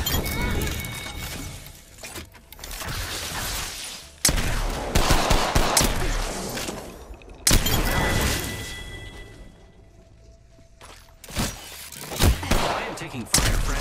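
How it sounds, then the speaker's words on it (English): Bursts of rapid gunfire in Apex Legends come in loud clusters separated by brief lulls, with sharp cracks and a glassy shatter-like impact among them, close and heavy. "I am taking fire, friends."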